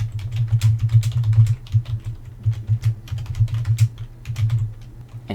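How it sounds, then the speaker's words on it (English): A computer keyboard is typed on in quick, uneven bursts of clicky keystrokes close to the listener, with short pauses between runs. "Just press the Caps Lock key once to toggle it, and everything you type will be in uppercase"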